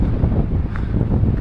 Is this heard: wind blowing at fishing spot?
yes